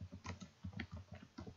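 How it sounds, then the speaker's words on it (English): Soft, quick keystrokes on a computer keyboard as a copy command is typed into a Windows command prompt, a steady run of close, quiet clicks with no voices. "type a copy command"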